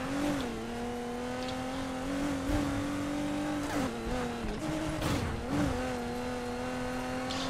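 An Aston Martin engine in the Need for Speed Heat video game, with a sustained drone and rising and falling revs broken by a few gear-shift dips, a wide-ratio gearbox slow to change, heard alone at moderate loudness.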